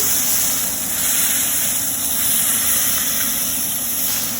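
Meat sears in a hot, oiled pan over high heat for a reverse sear, giving a loud, continuous sizzling hiss that stays steady and close, with no voices.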